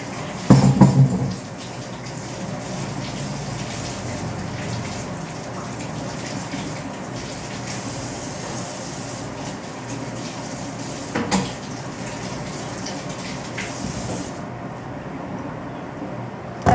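Tap water runs in a steady, continuous gush while food is washed for meal prep, with a brief louder splash near the start and another around the middle before the flow cuts off.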